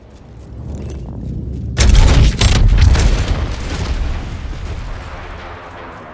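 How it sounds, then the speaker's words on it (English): A gravity cannon in a video game fires with a heavy sudden boom that rolls into a long rumbling, crackling wash of blasts before slowly fading, loud and close. "Gravity cannon here. Let's use it."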